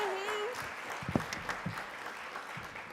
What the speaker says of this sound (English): Yes, give a bigger round of applause for Ms. Maya.